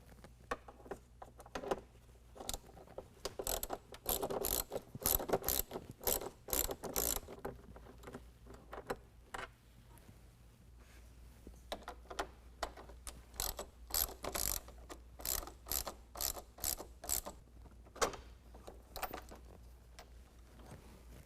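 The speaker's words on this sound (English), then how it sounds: "now using a 10mm, go ahead and remove these 2 bolts that hold the factory air scoop in place." A 10mm ratchet removes the bolts holding the factory air scoop on a 2020 Ram 2500 with the 6.7L Cummins diesel, producing repeated runs of rapid, close clicking that pause now and then.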